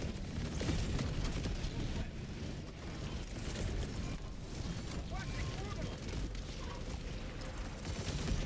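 Orbital barrage explosions in Helldivers 2 pound away in a continuous, dense rumble of blasts and bursts for several seconds, with voices in the mix.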